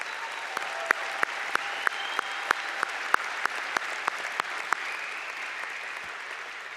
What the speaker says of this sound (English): That's worth an applause right there in itself.